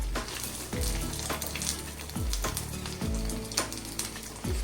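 Risotto croquettes frying in hot oil, a steady close sizzle with a few soft knocks and shifts as they are moved in the pan, no talking.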